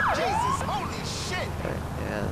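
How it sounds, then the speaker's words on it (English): A Federal Signal Omega police siren, a replica of the Seattle-Tacoma siren, wails in a video game with rising and falling sweeps, loud and near, over a busy background. "It is a replica of the Seattle Tacoma siren. It's called Federal Signal Omega."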